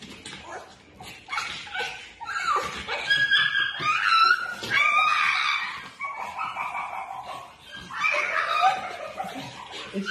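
A pug held down for a nail trim protests with continuous high whines, yelps and snorting grumbles, close and loud over about ten seconds, with a person's voice mixed in.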